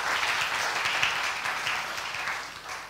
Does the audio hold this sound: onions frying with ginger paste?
no